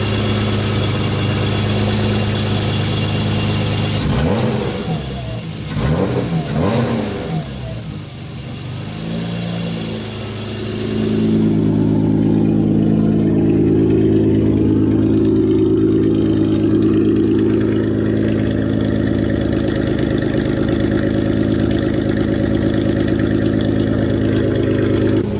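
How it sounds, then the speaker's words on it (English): BMW E30 fitted with a KAMotors carbon fiber intake, idling before a few quick throttle blips sweep the engine up and down, then settling into a louder, sustained higher-rpm drone with prominent intake induction roar, close and loud. "revving the car so you could hear the induction noise"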